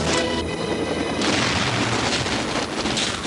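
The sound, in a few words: movie pyrotechnic explosion made with miniatures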